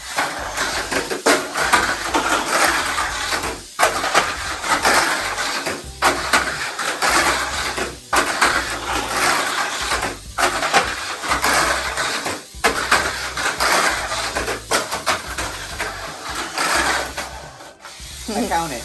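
A Mini 4WD toy car with a new rear setup runs a test lap on its track, giving a steady, loud buzzing whirr of a tiny motor and rolling wheels with brief regular dips as it circuits.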